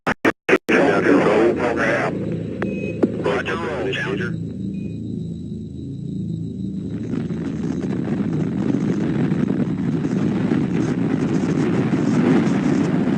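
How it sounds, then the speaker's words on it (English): NASA rocket lifting off, a deep continuous roar of main engines that builds and holds loud and broadband after a few sharp clicks at the start, with a brief lull in the upper range mid-clip before the full rumble fills in. "We have main engine start. 4, 3, 2, 1, and liftoff."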